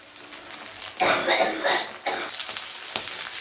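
Flat beans hit a pan of frying potatoes, sending up bursts of crackling sizzle with a bright spatter between quieter patches.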